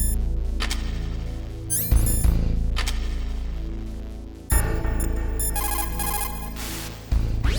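Metal Gear Solid codec call ringing on PS1: a repeating electronic ring that sounds in loud, steady bursts with short gaps over a continuous synthetic tone, close and clear, with no talking.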